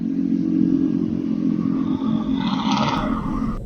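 A motorcycle engine runs steadily up close while pushing along a broken-down motorcycle that will not start, giving a continuous loud drone with some clatter and no talking.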